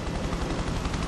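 A helicopter's rotor drone roars loudly and steadily in the game Prototype, mixed with a dense rumble of game action and no pauses.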